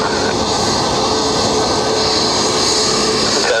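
Steady loud roar of aircraft jet engines at Dublin Airport, a Dubai Air Wing Boeing 747 freighter nearby, a continuous broadband rumble and whine with no pauses and no voices.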